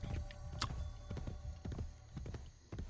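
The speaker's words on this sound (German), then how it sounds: "Der Punkt, der da hinten kommt, ist das Pferd? Ja, das ist das Pferd." Horse hooves clip-clopping in the game Assassin's Creed Brotherhood, a steady run of soft hoof beats with a brief whinny-like sound, heard faintly under ambient game background.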